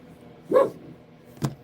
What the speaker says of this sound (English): Regina's barking at air again